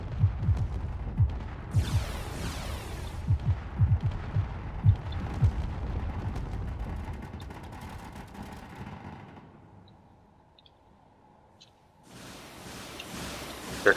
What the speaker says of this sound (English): it's only going to take even more hits as more rockets come in